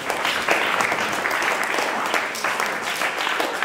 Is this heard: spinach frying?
no